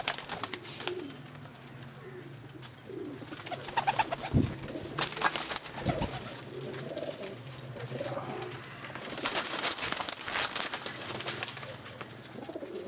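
Golden pigeons at a home loft coo softly in repeated low murmurs, with occasional chirps and faint background voices and rustling throughout.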